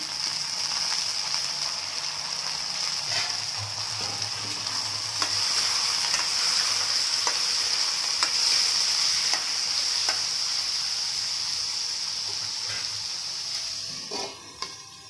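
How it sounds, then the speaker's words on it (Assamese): Steady sizzling of potatoes frying in a pan, with occasional stirring scrapes and clicks, fairly quiet and close. "ভাজি হৈ যোৱাৰ পিছত আলুখিনি দি দিছোঁ।"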